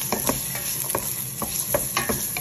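Onion and garlic sauté in a pan with a constant close sizzle, broken by quick rhythmic stirring scrapes every fraction of a second.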